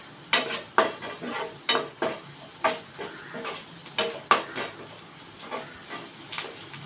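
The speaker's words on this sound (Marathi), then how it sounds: "आता हे मिक्स करून घेऊया फोडणीमध्ये" A spoon stirs red chili powder, turmeric and coriander powder into an onion tempering in a pan, making a run of sharp metallic scrapes and clinks about every half second over a faint sizzle, with no talking.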